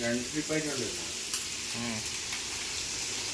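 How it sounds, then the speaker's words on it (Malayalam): Prawns sizzle and crackle in hot oil, a steady bright hiss with a few stirring knocks, while voices talk briefly over it. "ചെമ്മീൻ പൊരിക്കുന്ന ചെമ്മീൻ."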